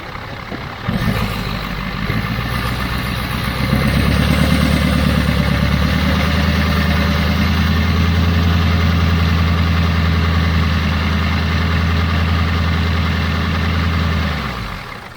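A Ford 7.3 IDI diesel with leaky O-rings starts and runs in a dually truck, a loud, steady low clatter that holds for about thirteen seconds before cutting off, with no talk over it.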